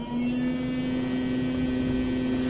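A small motor salvaged from an old computer spins at high speed, giving a steady unbroken whine with a strong constant tone and no voices.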